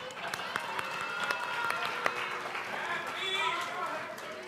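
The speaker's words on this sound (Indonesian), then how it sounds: "Baik paslon nomor 1, 2, 3, kita beri tepuk tangan." An audience applauds mayoral candidates at a Yogyakarta mayoral debate, with steady clapping and crowd noise under a voice that talks throughout.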